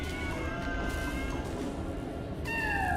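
A cartoonish cat meows in the Lego Batman video game, with two or three short pitched cries over a steady background of game music and ambience, the last cry rising clearly near the end.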